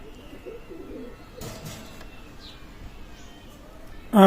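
Soft cooing from Pakistani Teddy pigeons comes in low, murmuring phrases near the start, under a quiet background hum, ending with a sudden loud burst.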